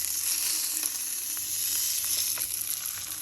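Beef browning in a hot pan for a beef and vegetable soup gives a steady, close, crackling sizzle throughout, with no voices.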